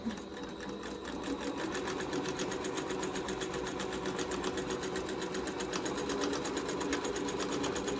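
A sewing machine back stitches fabric for a drawstring backpack, a quiet, fast, steady needle patter running continuously throughout.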